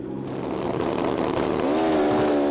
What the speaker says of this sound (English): that's Richard Hann burning out on the Mega Shed racing bike up against Graham Belchin